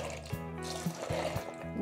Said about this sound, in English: now we just need to drain our beans and rinse them